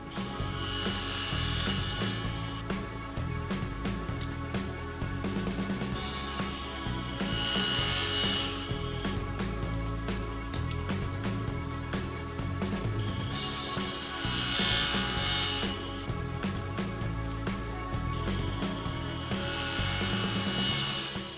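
A table saw cuts small ebony pieces for a pumpkin-face inlay on a Halloween candy tray, with a steady, loud whine and rasping wood noise that holds for over twenty seconds and swells in several surges, with no talking.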